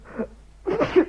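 A person sneezes, with a short breathy intake followed by a louder, explosive burst, close and clear with no talk.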